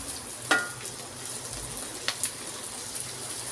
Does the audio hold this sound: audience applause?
no